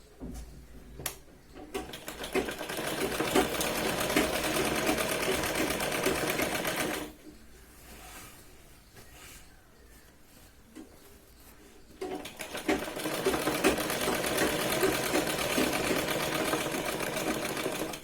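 Sewing machine running steady double-stitch seams on a Punjabi top, sleeve being joined to the front panel; loud continuous whirring bursts of several seconds, a quieter pause in the middle, then stitching resumes.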